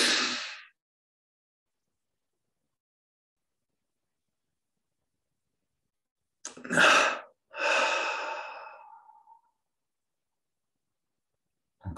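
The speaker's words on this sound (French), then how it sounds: "Puis double inspire par les narines et contraction de tous les muscles." A slow breath in through the nostrils in two quick pulls, followed by a long, fading exhale, close and alone in otherwise silent surroundings.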